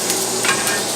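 Food sautéing quickly in a pan for a duck breast with mushroom sauce dish, a steady broadband sizzle with light stirring scrapes, close and continuous for a brief moment with no talk.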